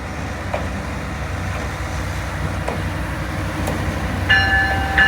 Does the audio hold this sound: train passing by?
yes